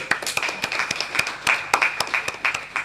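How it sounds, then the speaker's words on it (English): Audience at an academic GNSS conference panel session applauds, a dense patter of many hands clapping steadily at moderate loudness with no talk over it. "let's conclude with applause to everybody attending this panel"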